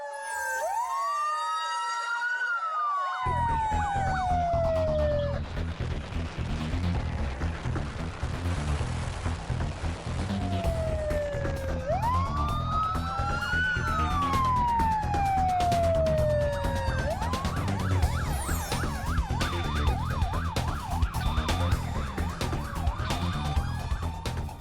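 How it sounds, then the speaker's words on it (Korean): A wailing ambulance or fire truck siren sweeps up and down repeatedly over steady traffic rumble on a South Korean road, loud and close, continuing throughout. "긴급 출동하는 응급차나 소방차 길을 터주는 일을"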